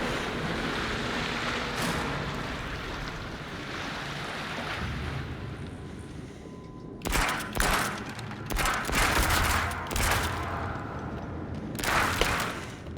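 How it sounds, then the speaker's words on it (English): Bursts of machine gun fire from two guns in a VR horror rail-shooter, loud rapid clusters breaking out after several seconds of steady background ambience. "Oh, 2 machine guns, that'll do."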